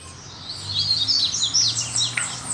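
A double-collared seedeater (coleiro) sings outdoors in nature, with bright, rapid chirping phrases repeated close by and loud over a faint low background hum.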